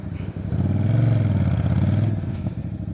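A heavy motorcycle pulls away at low speed during practice maneuvers, its engine rising into a loud, rough, pulsing rev that peaks and then eases off, with faint clatter underneath.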